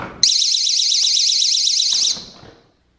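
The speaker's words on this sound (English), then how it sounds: "some jurisdictions require an alarm on any exterior door that leads to the pool." An exterior door alarm guarding pool access gives a loud, steady electronic warbling tone lasting about two seconds, then cuts off abruptly, leaving faint room noise behind.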